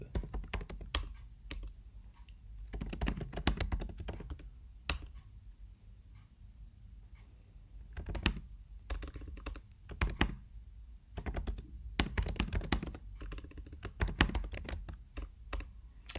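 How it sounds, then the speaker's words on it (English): Computer keyboard typed on rapidly during language-learning practice, clusters of quick clattering keystrokes broken by short pauses, close and steady for the whole stretch. "I'm trying to type too fast."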